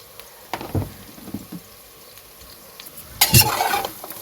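Rajma gogji (kidney beans with turnip) being stirred with spices in a pan, giving a few scraping spoon strokes early on, then a brief louder burst of clatter and sizzle near the end.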